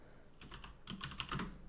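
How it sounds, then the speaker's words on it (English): Someone types on a computer keyboard during a game engine coding session, producing quiet, close, irregular keystrokes that quicken into a brief flurry, with no voices. "If I go on YouTube and I type in video"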